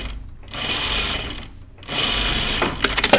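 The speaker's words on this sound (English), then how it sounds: "here's my basting stitch again" A home sewing machine runs a basting stitch on a dress sleeve, whirring in two sustained bursts separated by a short pause, close and fairly quiet, with a few light clicks near the end.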